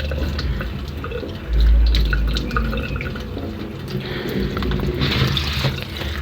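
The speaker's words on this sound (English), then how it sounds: "First, let me wash my hands." Tap water runs and splashes as hands are washed in a home kitchen sink before cooking beef, a steady close trickle with a heavier gush and clatter partway through.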